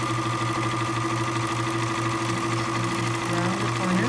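A sewing machine runs steadily while stitching a seam on fleece mittens, giving a close, continuous humming whir with a fast mechanical pulse and no pauses.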